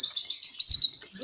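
Caged canaries eating a mash of carrot and egg give a continuous high, thin chirping trill, close and fairly loud, with a soft low bump midway.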